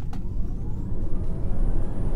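A Tesla Model 3 at full charge launches for a 0-60 mph run, giving a loud, steady low road and wind rumble with a faint rising motor whine across the short stretch.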